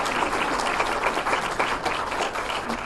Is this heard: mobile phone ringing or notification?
no